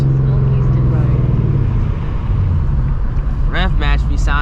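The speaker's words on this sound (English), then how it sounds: "Rev match be sounding great." A Ford Mustang engine rumbles loud and close with a deep droning note that drops as revs fall during a rev match, and brief voices come in near the end over the steady engine noise.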